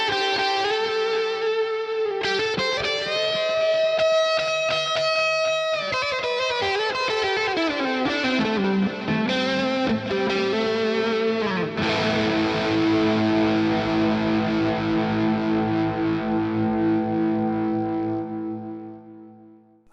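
Hartwood Charger electric guitar from a starter pack, switched to the neck pickup for a thicker lead tone, plays a sustained, overdriven passage of held notes and chords that rings out steadily for nearly twenty seconds before fading.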